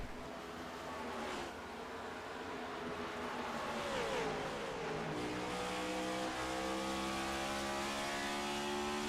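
Ford Mustang race car in an AMA Cup race at Bristol, a loud engine roar with revving pitch sweeps and faint tire squeal as cars pass, continuous and dense.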